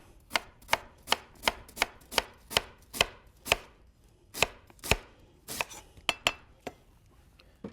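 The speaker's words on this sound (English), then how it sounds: "So you take your cabbage, grab your knife, and you want to cut it as thin as possible." A knife slicing cabbage thinly on a cutting board, sharp evenly spaced chops in a quick steady rhythm with a brief pause midway, close and crisp with no talking.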